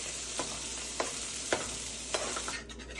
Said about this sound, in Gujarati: હવે આ ક્રશ કરેલું કોર્ન નાખી દેવાનું. થોડું ગેસ ધીમો કરી એને બરાબર સાતળવાનું.